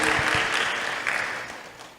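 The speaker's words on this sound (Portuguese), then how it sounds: "Exatamente, muito bom, pode aplaudir o João aí" A room full of people at a church Bible lesson claps together in a short burst of applause that gradually fades out.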